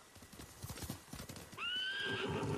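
Samurai horse in Ghost of Tsushima: rapid hoofbeats clatter close by, then a loud, high neigh rings out and trails off over the last second.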